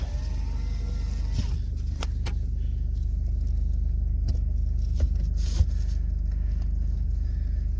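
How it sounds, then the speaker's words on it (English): A Mitsubishi Pajero diesel engine idles with a steady low rumble, with a few faint clicks and knocks over it. "You can hear that diesel."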